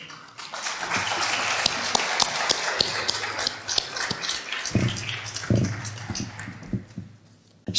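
An audience applauding in a hall at an International Women's Day event, a broad wash of many hands clapping that swells, then thins and fades out near the end.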